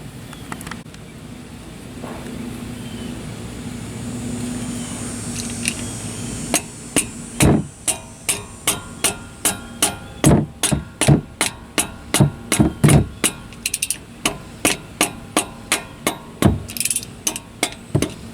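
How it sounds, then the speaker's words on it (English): A rubber mallet strikes a ratchet on the differential plug of a 2014 Jeep Wrangler JK, starting as a few scattered knocks and building into a long run of regular, sharp, close blows over a faint background hum. "smack it with my rubber mallet at the bottom"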